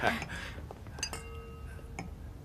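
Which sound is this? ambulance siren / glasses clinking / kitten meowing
glasses clinking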